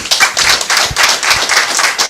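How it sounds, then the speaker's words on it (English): A morning-show audience bursts into dense, loud applause, many hands clapping steadily and close for a couple of seconds with no talk over it. "Round of applause."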